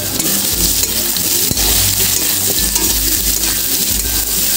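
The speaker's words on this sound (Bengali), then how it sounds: "এবার আমি এর মধ্যে আদা রসুন গ্রেট করে রেখেছিলাম সেটা দিয়ে দিচ্ছি" Grated ginger and garlic hit a hot pan of oil for a Bengali jackfruit and prawn curry, giving a loud, steady close sizzle with a few scraping stirs and a sharp clink of a utensil.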